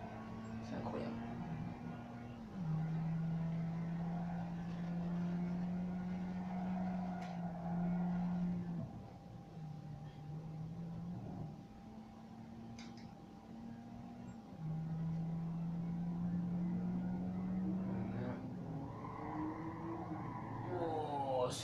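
Race car engine in a racing video game, a loud steady droning tone that drops and climbs in pitch with each gear change and corner, running continuously and close up over a low background.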